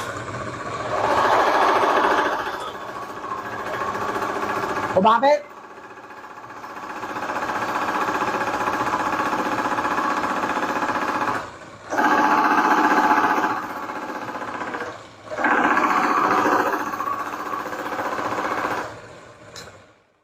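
An engine runs with water added to its oil, giving a rapid mechanical clatter that stops and restarts several times with brief gaps, fairly close and steady between breaks, with a short spoken question partway through.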